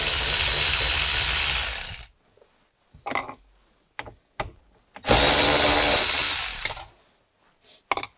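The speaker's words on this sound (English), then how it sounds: "we've got all of our 10mm bolts removed" Ratchet wrench backing out 10mm bolts from a Toyota 4Runner dash: two long, loud stretches of rapid clicking separated by short bursts of single clicks and handling knocks, up close with no talk.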